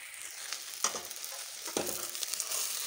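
Sliced okra stir-fries in a pan over medium flame, a soft steady sizzle broken by a few sharper scrapes and tosses of the spatula, quiet and close with no talking.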